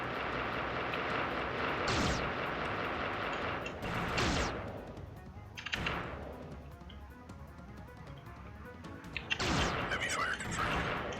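Heavy gunfire in the turn-based strategy game Xenonauts: bursts of loud, crackling shots and booming blasts in several clusters, roughly every two seconds, over a dense rumbling battle backdrop.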